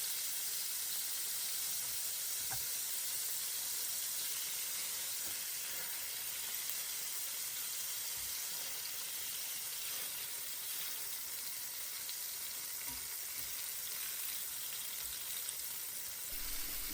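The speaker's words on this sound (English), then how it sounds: "Add the coconut powder, then the almond powder, and cook, stirring gently for 2 minutes." Coconut and almond powder cook in a curry base for tikka masala while being stirred gently, giving a steady, even sizzle and hiss that holds throughout with faint scrapes of stirring and no talk.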